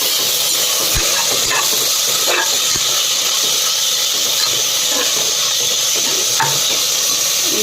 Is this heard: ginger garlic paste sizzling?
yes